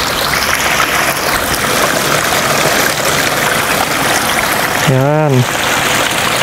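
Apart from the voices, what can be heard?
spring water flowing out from a rock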